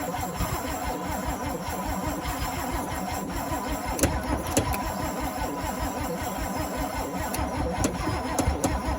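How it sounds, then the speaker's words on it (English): A 1975 International dump truck engine cranks and turns over in a loud, rapid, continuous rhythm close by, with a few sharper knocks partway through; no talking. "Might take a couple tries until it starts getting gas up in there."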